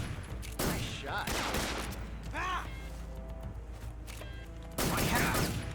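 Several bursts of gunfire in the video game Metal Gear Solid 3: Snake Eater crack out in rapid clusters, with a gap in the middle before a final loud volley.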